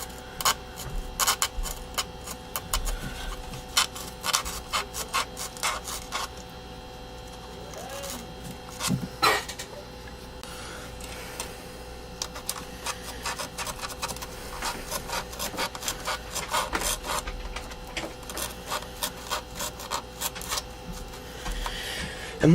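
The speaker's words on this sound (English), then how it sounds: "Go ahead and cut around the edge." Scraping and rasping as the edge of an 8-inch speaker cone is cut around, a close, irregular run of short sawing and rubbing strokes with brief pauses, no voices.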